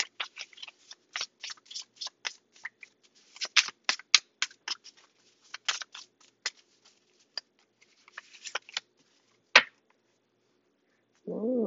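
Tarot cards being handled and shuffled up close, a quiet run of crisp riffles, slaps and taps with short pauses, ending in a soft low sound.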